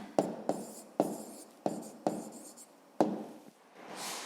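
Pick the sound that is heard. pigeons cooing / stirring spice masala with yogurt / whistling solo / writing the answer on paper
writing the answer on paper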